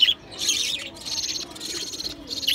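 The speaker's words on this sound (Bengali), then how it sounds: "পাখিগুলোও ঠিক আছে আল্লাহ রহমতে।" Pet birds kept at home chirp after a rainstorm in short, bright bursts of tweets that repeat every half second or so, fairly close and clear over a quiet background.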